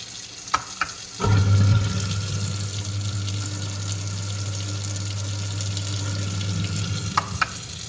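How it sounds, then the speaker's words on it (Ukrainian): A push-button kitchen faucet in a newly renovated apartment kitchen runs water after a few clicks, with a steady, close stream splashing into the sink for about six seconds, then clicks again near the end. "Треба, щоб водичка текла просто нажимаємо"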